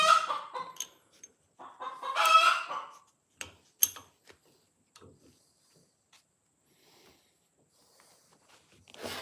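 Outdoor chickens near a sickle bar mower repair cluck in a lively cluster of close calls early on, then drop to scattered faint clucks and soft knocks, with a final brief call at the end.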